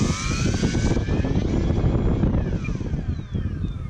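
An RC BF109E kit-built model plane's motor runs through a throttle check, a steady close buzzing drone with whining tones that shift in pitch as the throttle changes, with light wind noise and no talking.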